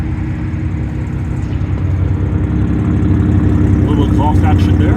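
Exhaust note of a 2024 Ford F-150 Raptor pickup, a steady low idle rumble close by that swells slightly toward the end, with a voice talking over it.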